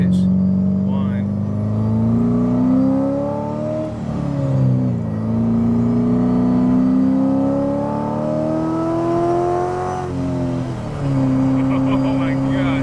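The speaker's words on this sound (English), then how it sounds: "Just listen to that sound. I like that high pitch whine." A 640 WHP Procharged C7 Corvette Stingray under load, with a strong engine drone and a high-pitched supercharger whine that rises and falls as the car shifts through gears, loud and close inside the cabin.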